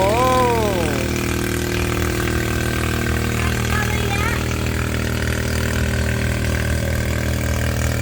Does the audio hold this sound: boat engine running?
yes